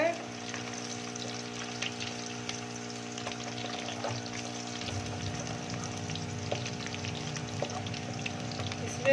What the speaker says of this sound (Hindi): अब ये कटी हुई प्याज इसमें डालेंगे। प्याज को हल्का हमने ब्राउन करना है।